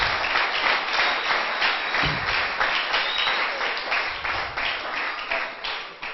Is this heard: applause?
yes